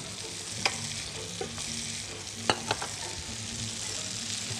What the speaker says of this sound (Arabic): هلا كمان عم نشوي الفليفلي